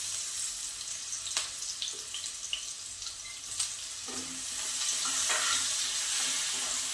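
Ginger, garlic and green chili paste with cumin sizzles softly in hot oil, a quiet, steady frying hiss broken by occasional stirring clicks and scrapes, with no voices.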